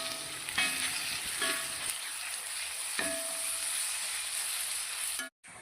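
Onions with ginger-garlic paste frying in a pan, a steady loud sizzle with a few stirring scrapes and clacks, ending in a brief cut-out before the sizzle resumes.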